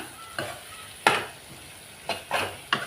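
A spoon stirs dried stingray fish frying in masala in a pan, several distinct scraping strokes against a soft steady sizzle, close and moderately quiet.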